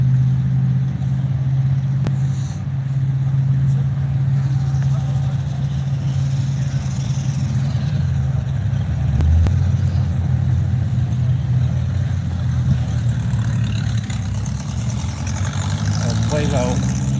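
A naturally aspirated cross-ram 354 Hemi drag car engine idles with a deep, steady loping rumble at a drag strip, loud and continuous, with a slight rise in revs near the end.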